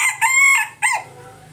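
Hens and a rooster calling loudly close by on a home farm around egg-laying time, two or three short crowing squawks in quick succession, then quiet.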